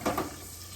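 Battered homegrown garden eggplant frying in hot oil, a steady close sizzle with a brief louder crackle at the start, no voices.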